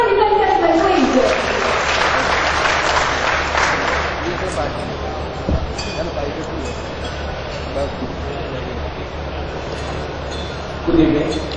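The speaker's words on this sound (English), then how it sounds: "A huge round of applause, ladies and gentlemen, please." Audience applause at a speech event at an aerospace park in Nagpur, India: a large crowd clapping steadily for over ten seconds, full and sustained with a low background hum, gradually thinning toward the end.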